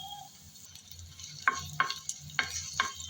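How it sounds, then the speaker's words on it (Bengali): Garlic frying in a little hot oil in a pan, a steady soft sizzle broken by several sharp scraping stirs of a spatula. "এই গরম তেলে দিয়ে দিলাম"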